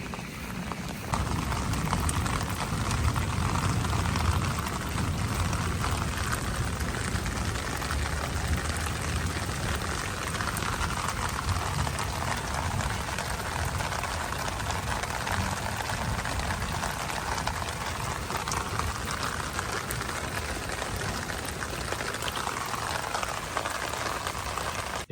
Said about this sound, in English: If you enjoyed watching that 6-inch drainage system in the rain